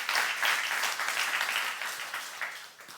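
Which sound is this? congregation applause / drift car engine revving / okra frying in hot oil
congregation applause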